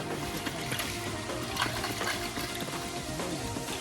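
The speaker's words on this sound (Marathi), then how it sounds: "तर आता बाबू धुतोय टोप" A cooking pot is rinsed and washed with water outdoors beside a wood fire, giving a steady, continuous splashing and swirling wash of water at moderate loudness, with no talking.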